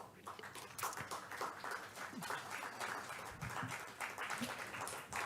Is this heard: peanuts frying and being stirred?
no